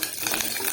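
Hot oil sizzling loudly and steadily as curry leaves go into browning onions in a pan, a brief, close, continuous crackle with no talking.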